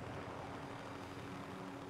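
A helicopter in a Call of Duty match gives a steady, droning engine and rotor hum that runs evenly throughout at moderate level, with no speech.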